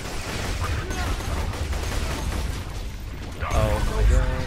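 Gunfire in Borderlands 2 crackles as a dense, continuous barrage under excited voices, swelling with a louder booming burst near the end.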